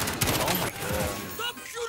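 Gunfire in the Call of Duty video game comes as rapid overlapping bursts of shots that are dense at first and then thin out over about two seconds.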